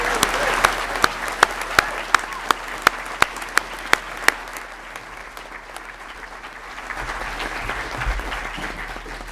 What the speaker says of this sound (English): Please join me in a round of applause in congratulating these students on this happy occasion.